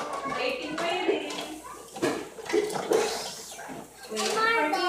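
Water pours and splashes steadily into a children's sensory water table nearby, with an adult and someone talking over it.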